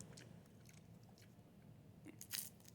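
Close, quiet chewing on a Cheyenne Brand meat snack stick with a tough, crunchy casing: soft mastication noises followed by a couple of sharper crunchy bites near the end, with no talking.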